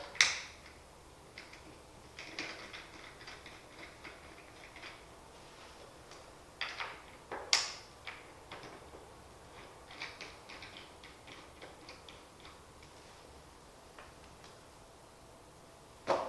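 Small metal clicks and ratcheting ticks come from bolts being fastened to secure the back of a Mackworth Essentials shower chair, in sparse irregular bursts, close and quiet, with two louder knocks.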